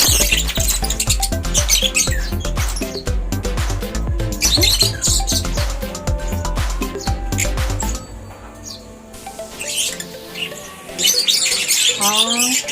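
Pet lovebirds kept at home squawk and chirp in a busy flock, with bursts of shrill calls over steady rhythmic background music throughout.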